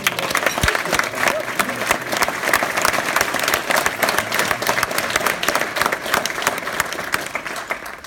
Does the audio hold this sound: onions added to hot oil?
no